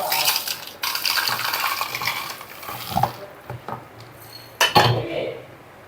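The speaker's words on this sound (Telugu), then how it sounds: "ఈ పల్లీలు వీటన్నిటిని మిక్సీ జార్లోకి వేసుకోవాలి." Dry peanuts clatter and rattle into a mixer grinder jar in a kitchen, a dense hard pattering pour lasting several seconds with a couple of sharper knocks near the end and no talking.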